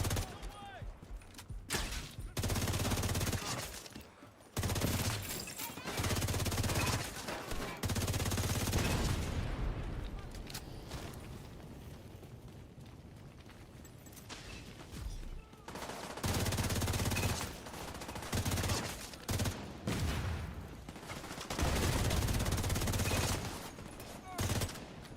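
Sustained bursts of turret machine-gun fire in The Division 2, loud rapid volleys coming in waves with brief lulls, dense gunfire dominating throughout.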